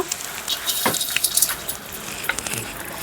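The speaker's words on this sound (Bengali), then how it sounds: "এবার শুকনো কড়াতে আমি এই মশলাগুলো ভেজে নেব" Whole cumin, dried chilies and cardamom dry-roasting in a hot, oil-free pan, giving a soft, low crackle and scattered light scrapes close by, with no talking.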